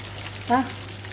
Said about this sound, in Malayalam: കുറേശ്ശെ കുറേശ്ശെ ഇട്ട് നമുക്ക് ഫ്രൈ ആക്കി എടുക്കാം കിടന്ന് ഫ്രൈ ആയിക്കോട്ടെ